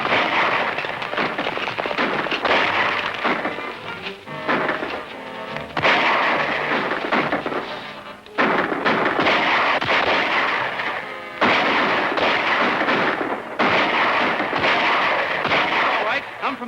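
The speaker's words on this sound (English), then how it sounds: "Shooting is helping us." Rapid gunfire from a 1941 western shootout, loud cracking shots in dense bursts separated by short pauses, with voices mixed in beneath the barrage.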